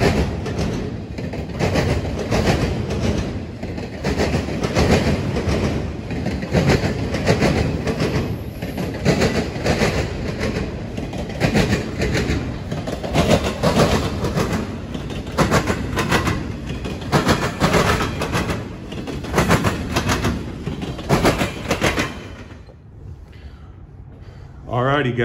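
CSX and Norfolk Southern freight trains hammer across the rail diamonds in Marion, Ohio, a loud, relentless rhythmic clatter of wheels banging over the crossing that continues for a long stretch before fading, with people talking over it.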